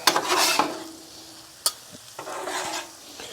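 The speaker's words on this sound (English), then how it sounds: "We're gonna push everything to the middle, and we're gonna mix it all up." Cabbage, sausage and shrimp fry on a Blackstone griddle as a spatula pushes and mixes them, bringing bursts of loud sizzle, scraping strokes and a sharp metal clack close by. Nobody speaks.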